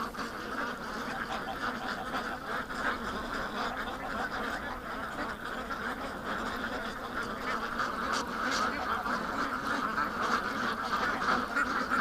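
Alarmed ducks on open water quack continuously in a dense, agitated chorus, steady and fairly loud throughout with no talking.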